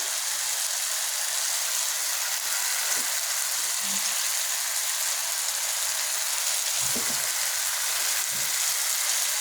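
Ayre fish sizzling in hot oil in a pan, a loud, steady hiss of frying with a few soft bumps and clatters of the fish being added, no voices.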